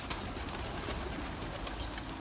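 Pigeons at a loft, including Mardin birds, give soft cooing and occasional wing flaps against a steady noisy outdoor background, faint and somewhat distant.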